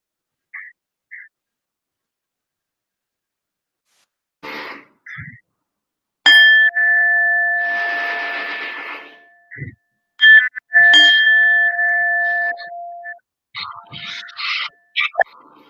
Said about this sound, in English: and we can have the bell whenever it's okay.